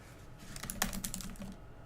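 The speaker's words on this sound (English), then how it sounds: "I can just keep typing" A short, quiet burst of typing on a computer keyboard, with a quick cluster of light, close key clicks.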